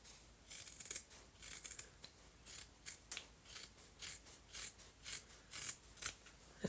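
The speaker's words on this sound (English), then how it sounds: "trim both layers of fabric and stabilizer 1/4 of an inch away from the final outline on both sides of the project" Scissors snip through layered fabric and embroidery stabilizer while a stitched lace Christmas stocking is being trimmed, a steady series of about a dozen crisp close cuts in an even rhythm with no talking.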